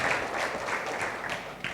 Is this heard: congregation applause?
yes